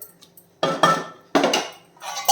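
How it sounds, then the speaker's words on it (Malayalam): A metal lid clatters onto a cooking pot of chicken curry, with three close, ringing clanks as it is set and settled in place, and no talking. "മൂടി വയ്ക്കാം."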